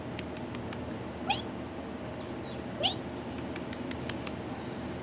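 An outdoor cat gives two short, distinct meows a moment apart, fairly close against a quiet outdoor background with faint chirping birds.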